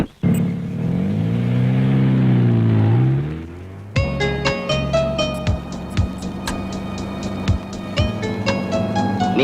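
A car engine drones and rises steadily as it accelerates, then drops away and is followed by a busy stretch of sharp clicks and tonal sound effects.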